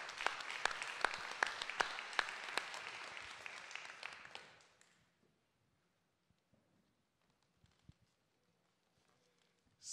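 An audience at an award ceremony applauds a recipient collecting a prize with steady, moderately loud clapping that swells, then fades out after about four seconds into near silence with faint stray noises.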